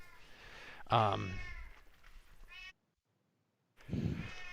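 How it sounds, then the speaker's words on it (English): Cats meow loudly and repeatedly in a room during a sports talk show, their cries overlapping with the hosts' talk before a brief silence and another burst. "But oh my God, my cats are going bananas."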